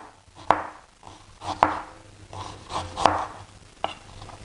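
A knife slices through fresh ginger on a cutting board, giving four crisp, evenly spaced chops heard up close with no talking.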